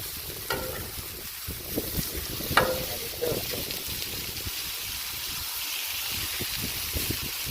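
Sous vide steaks sizzle on a Blackstone griddle outdoors, a steady close frying hiss with brief clatters as the meat is flipped, under wind noise buffeting the microphone.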